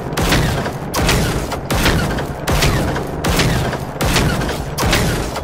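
Rapid bursts of loud gunfire from the video game Generation Zero repeat in several volleys with brief pauses between them, harsh and close, with no voices.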